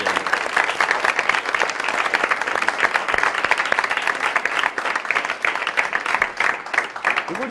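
A studio audience on the Iranian TV comedy talk show Khandevaneh applauds loudly and continuously, dense clapping that fills the whole stretch.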